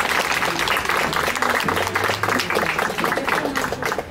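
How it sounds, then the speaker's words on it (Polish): An outdoor crowd at a Constitution Day celebration for the Third of May applauds steadily, dense clapping with some cheering that holds even and then tapers slightly at the end. "Jeszcze raz ogromne brawa dla naszych małych patriotów"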